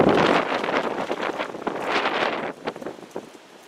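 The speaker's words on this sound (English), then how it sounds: "It is windy as all heck out here, as you can hear and see." Strong wind buffets the microphone in loud, gusty roars that rise and fall, easing off toward the end.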